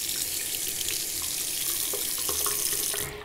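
A sink tap runs steadily, water splashing into the basin in a constant close hiss, with a few light clinks near the end, while a fountain pen nib and feed are rinsed.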